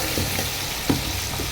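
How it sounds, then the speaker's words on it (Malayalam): Thick jackfruit paste cooking down in a pan on the stove, with a soft steady sizzle and a few stirring scrapes, one brief louder knock near the middle, no voices. "ഇനിയിപ്പോൾ നമ്മൾ അടുപ്പത്ത് ഇട്ടിട്ടൊന്ന് വരട്ടിയെടുക്കാത്."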